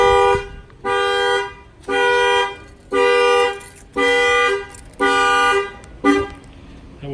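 A factory car alarm, set off by banging on the car window, blares its horn in loud repeated honks of about a second each, with short gaps between them, close by.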